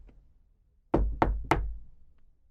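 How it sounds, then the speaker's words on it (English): Three firm knocks on a door, loud and close, evenly spaced with short gaps and a quiet background before them. "so I knocked on the door."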